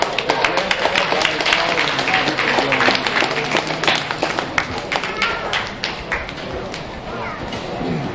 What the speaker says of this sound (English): Let's give these market gilt exhibitors a round of applause.